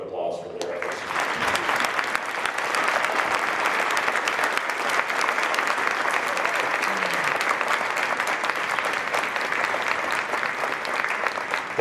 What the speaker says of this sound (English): we owe them a huge round of applause for their efforts